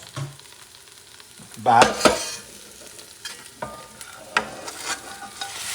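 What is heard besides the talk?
oxtails sizzling and being stirred in a pan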